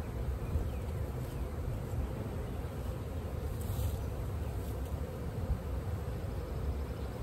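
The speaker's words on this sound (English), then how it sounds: "Bees like to walk up. And the Cotswold guy says that they will walk right into the hive" A honeybee swarm, hived after settling on a mailbox in February, hums steadily as the bees walk up a ramp into the hive, a dense, continuous buzz that stays even throughout.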